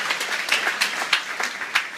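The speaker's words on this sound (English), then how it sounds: "Give all my friends a big round of applause." Audience applause for a hypnotist's volunteers during a cruise-ship hypnosis show, a steady patter of many hands with a few louder bursts, fairly close and continuing for a couple of seconds with no talk over it.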